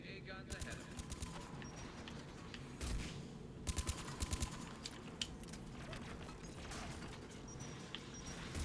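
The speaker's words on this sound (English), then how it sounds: "AA guns ahead of him." Anti-aircraft guns firing in a video game, distant rapid pops and bursts scattered through the clip, faint beneath a steady ambient bed and occasional speech.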